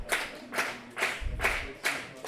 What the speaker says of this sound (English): Clap and stomp